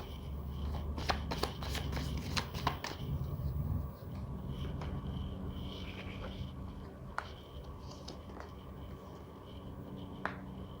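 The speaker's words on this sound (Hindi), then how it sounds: "तो सबसे पहले let's take out few cards for you." Tarot cards being handled and shuffled up close: a burst of crisp riffling flicks and snaps in the first few seconds, then quieter shuffling with a few sharp isolated clicks.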